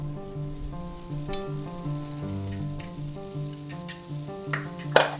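Butter melting in a hot pan ahead of an omelet gives a steady, moderate sizzle and soft crackle with a few sharper pops near the end, no voices.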